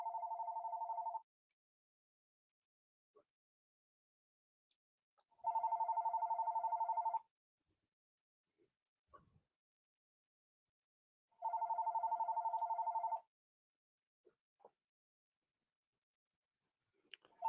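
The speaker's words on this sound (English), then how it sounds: "Let me go unplug my phone." A telephone rings three times in long, evenly spaced bursts with quiet gaps between them. The ringing is moderately soft, with only a few faint clicks and no voices.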